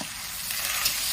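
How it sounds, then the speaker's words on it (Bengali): Ginger and garlic frying lightly in a pan for a Bengali fish-head labra vegetable curry, giving a steady close crackling sizzle with a faint stirring scrape. "আদা রসুনটা একটু হালকা করে ভেজে নেব।"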